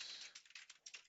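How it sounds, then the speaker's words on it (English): Fingers type on a computer keyboard in a short, quiet burst of quick, uneven key taps lasting about a second. "let's type more things or more text to put in there"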